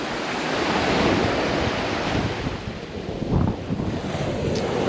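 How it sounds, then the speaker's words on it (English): Ocean waves wash onto a sandy beach on Cozumel, a broad continuous surf rush with a swell of breaking water midway, heavily mixed with wind buffeting the microphone. "It's a pretty cool beach."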